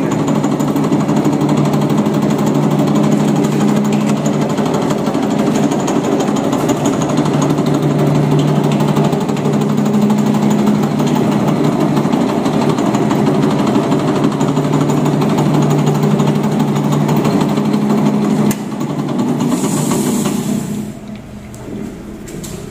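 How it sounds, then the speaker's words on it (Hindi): A lathe runs steadily while a center drill bores into the end of a metal workpiece: a loud, continuous mechanical hum and vibration for about twenty seconds, then it winds down near the end. "और मशीन को चालू करके इस पे ड्रिल करेंगे।"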